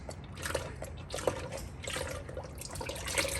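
Engine oil drains from the oil pan of an Audi 2.0T with a clogged pickup, a soft, continuous liquid trickle and patter heard close up with no talking.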